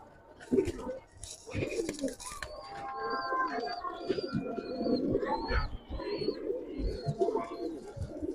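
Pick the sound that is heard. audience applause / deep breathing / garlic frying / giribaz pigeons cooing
giribaz pigeons cooing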